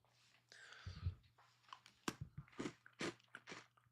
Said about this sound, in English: Whenever I crunch these things, I'll back up a little.